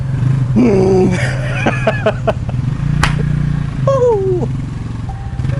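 Motorcycles pass by on a road, their engines whining and rising in pitch as they go by, loud and near over a constant low rumble while someone talks.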